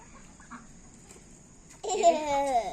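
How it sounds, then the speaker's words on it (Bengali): Chickens standing at a doorway cluck in a short burst of close, throaty calls as they are herded inside, following a quiet stretch of faint background hum. "এই যে মুরগিগুলো সব দুয়ারের গাড়ে মানে দুয়ারের গোড়াতে দাঁড়িয়ে আছে এগুলো এখন সব ঢুকিয়ে দিই"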